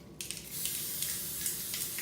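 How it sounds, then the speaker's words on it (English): A hissing spray of coconut oil from a can into an 8x8 baking pan, starting abruptly and continuing in a steady, close mist with a few short pulses. "I'm just going to spray it with some coconut oil"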